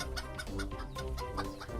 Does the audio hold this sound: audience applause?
no